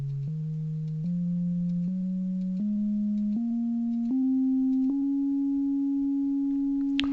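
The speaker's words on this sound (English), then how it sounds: "I'll set the oscillator to generate a sine wave," A clean synthesizer sine tone, steady and moderately loud, climbs upward in several distinct pitch steps before holding its last note; no voices.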